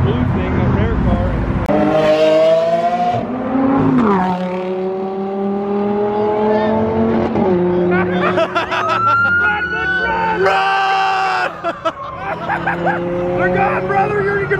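A rare blue Lamborghini's engine roars and revs as it sweeps past at a car meet, its pitch rising and falling, with voices murmuring in the background.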